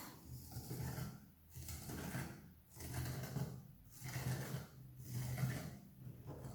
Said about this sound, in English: Just scraping around the sides to make sure everything is left neat.